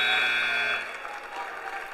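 A steady electronic buzzer ends a high school wrestling match between Triton and Pentucket, sounding loud for under a second and then cutting off, leaving crowd noise and cheering in the gym.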